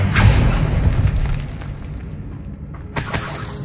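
A Bombarda spell explodes in Hogwarts Legacy, a loud, close shattering blast with debris crashing down and a second smaller burst near the end.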